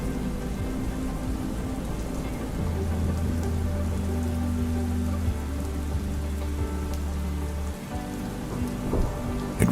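Steady rain pours down on a dark, dreary day, a dense and constant patter of drops on surfaces with a low rumble beneath, heard alone with no voices.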